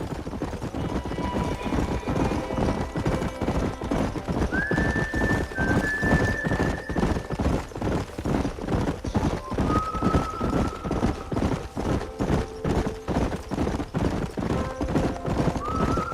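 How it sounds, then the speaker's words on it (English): Wild horses in Red Dead Redemption gallop in a steady, fast clip-clop of hooves, and several shrill neighs and whinnies rise over the running throughout. "There's the horses!"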